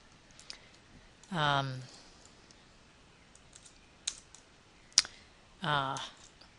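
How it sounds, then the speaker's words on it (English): Computer keyboard keys click in a few short bursts and single taps, close and fairly quiet, with someone speaking briefly in between. "I'm going to type in a few names here"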